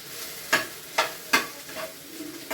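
Okra frying in a pan, heard as a handful of sharp, evenly spaced scraping stir strokes over a faint background sizzle, close by with no voices.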